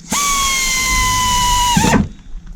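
A power drill whines steadily at high speed for about two seconds, drilling a hole in a car headlight, close and loud, then winds down and stops.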